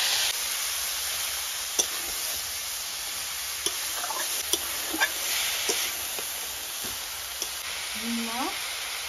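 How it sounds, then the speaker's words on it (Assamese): Vegetables, including potato, carrot and onion, frying in a pan, a soft continuous sizzle with scattered faint clicks of stirring and brief background sounds. "মই ভাজি আছো সবজি"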